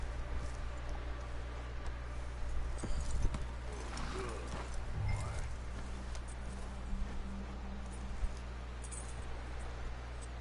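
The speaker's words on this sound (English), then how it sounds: "Yes, hitching my horse." Horse hooves clip-clopping at a hitching post in the Red Dead Redemption 2 video game, steady and moderately close over a low ambient hum, with scattered small clinks and no clear whinny.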